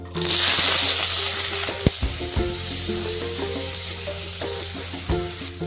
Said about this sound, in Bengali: কড়ায় প্রথমে কিছুটা তেল দিয়ে দিলাম তেল গরম হয়ে গেছে এবারে দিয়ে দেব কেটে রাখা পেঁয়াজ রসুন আর দুটো টমেটো আর এক ইঞ্চি পরিমাণে আদা দিয়ে এটাকে ভেজে নেবো